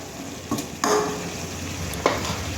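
Fennel seeds and asafoetida are stirred in a pan, producing a few distinct scraping strokes and a metallic clink over a low steady frying hiss, with no talking.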